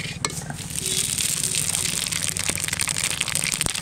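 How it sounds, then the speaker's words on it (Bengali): Whole cumin seeds and dry red chillies hit hot oil for a fish curry tempering, crackling and sizzling steadily up close with a few sharp pops and scraping stirs. "তা ফোড়নে দেবো এদিকে গোটা জিরে আর শুকনো লঙ্কা।"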